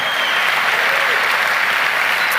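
A church congregation applauds in a dense, even burst of clapping that holds steady and loud for a couple of seconds, with faint voices mixed in.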